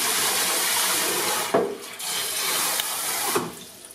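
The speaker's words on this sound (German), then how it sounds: "Ich habe auch heißes Wasser eingestellt, soll ja auch bestimmte Temperaturen aushalten." Hot tap water streams onto a Nomu S10 outdoor smartphone, a loud steady gushing rush with a few brief splashy shifts as the phone is moved under the flow.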